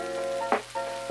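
Vegetables stir-fry in a heavily loaded pan with a ginger wasabi cashew sauce, giving a soft steady sizzle with one brief louder hiss in the middle, fairly faint and with no talk.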